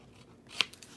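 Scissors snipping through paper while cutting out a letter ornament, one crisp close cut followed by a couple of softer snips in a quiet room.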